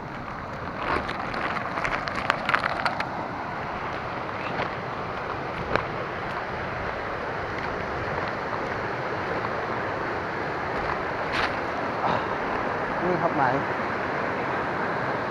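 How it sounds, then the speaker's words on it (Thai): Loud, steady rush of stream water flowing past trees at a fishing spot, a dense continuous roar filling the whole clip with faint brief knocks and a hint of wind, no clear talking. "เสียงน้ำดังมากไม่รู้จะได้ยินเสียงพูดหรือเปล่านะฮะ"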